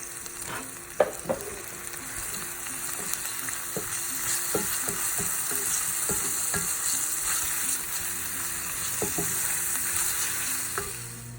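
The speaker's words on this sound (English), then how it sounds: "So I'm just going to saute this onion just a bit." Onion sautéing in a pan gives off a steady, close sizzle, broken by a few sharp clinks and scrapes of stirring, with no one talking.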